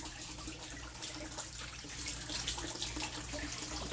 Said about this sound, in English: Aerator running.